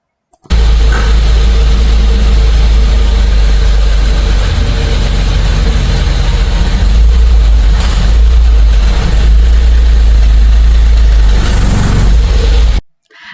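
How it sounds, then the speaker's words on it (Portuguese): Car engine close by at low revs, bogging toward a stall during clutch control on a steep hill, a steady low rumble with brief surges where the throttle is pressed to keep it running. "Assim que eu percebi que o carro ia apagar, eu já voltei com o pé até o fundo para o carro não apagar."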